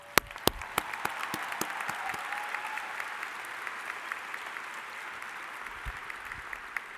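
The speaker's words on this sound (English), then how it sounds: "Let's give yourselves a big round of applause." Graduates at a spring commencement ceremony fill a large hall with steady, dense applause that holds evenly for the full stretch, with a few sharper claps standing out near the start.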